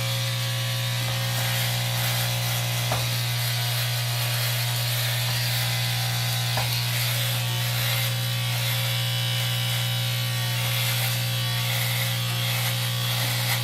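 Electric razor shaving a man's face, a loud, continuous close buzzing hum that runs unbroken the whole time with a few brief clicks, and no talking.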